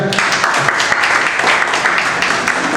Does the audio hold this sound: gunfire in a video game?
no